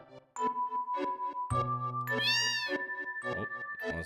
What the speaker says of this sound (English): Oh, that's another cat.